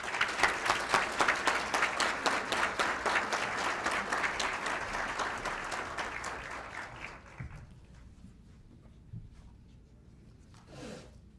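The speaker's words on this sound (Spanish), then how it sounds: "a quien les pido que recibamos con un fuerte aplauso" An audience applauds to welcome author Max Puig at a book launch, a dense, steady burst of clapping that thins out over several seconds into scattered claps and rustling before falling nearly quiet.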